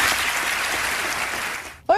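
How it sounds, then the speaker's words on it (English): Steady applause fills the chamber of the US Congress, a broad even clapping from many hands that fades toward the end before a brief voice cuts in. "Look at the bipartisan applause."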